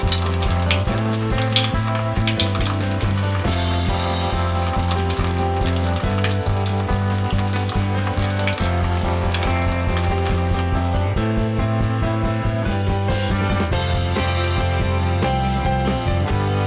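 Fried milk dessert (leche frita) frying in a pan gives a loud, continuous sizzle for the whole stretch, with steady tonal sounds running underneath.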